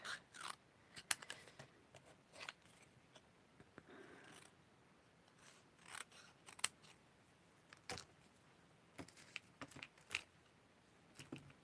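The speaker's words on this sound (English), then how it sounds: "what I'm going to do is cut a bit out" Scissors cutting card in a quiet room, with a series of close, crisp snips and slicing scrapes at irregular intervals, faint and with no talking.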